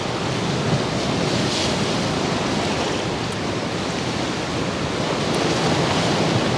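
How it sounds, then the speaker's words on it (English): Continuous roar of sea waves mixed with gusting stormy coastal wind at a wild camp with a one-man tent, a dense steady wash of noise with no pauses or voices. "doze off to the sound of the sea and the wind"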